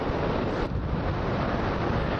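Strong wind blasts straight onto the microphone on a sandy beach, a steady loud roar that barely lets up, with no voices.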